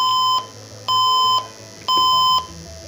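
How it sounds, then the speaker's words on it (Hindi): A desktop computer with a RAM fault sounds a loud, high electronic beep code at startup, three long, evenly spaced tones heard alone with a faint hum underneath. "ये 4 टाइम हमें बीप दे रहा है और स्क्रीन पे ये कुछ भी शो नहीं कर रहा है"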